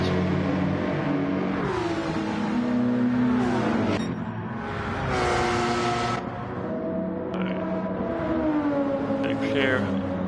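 GT race cars at Monza in a racing video game pass in waves of revving engines, pitch sweeping as each car goes by, with gear shifts and a brief tire squeal, under steady talk.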